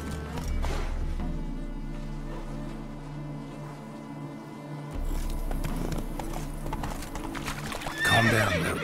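A horse in The Witcher 3 whinnies and gallops, with steady clip-clop hoofbeats under the game's ambient score and a louder snort or neigh near the end.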